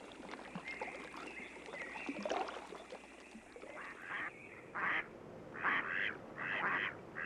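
Mallard ducks quack on a pond, a run of loud, nasal calls in short repeated bursts that rise above soft outdoor background noise, with a lower, more distant murmur of activity before them.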